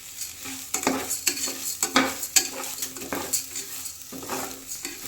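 Green gram stirred into hot oil in a pan: quick, close scraping and clinking strokes over a light sizzle, in an uneven rhythm, no talk.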